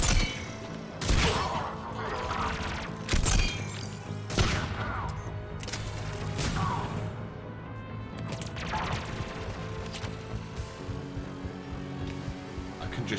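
Spitfire gun and pulse rifle fire during a Mass Effect 3 battle, heavy bursts of shots and crashing impacts layered over game music and ambience, loud and near throughout with a few sharper peaks.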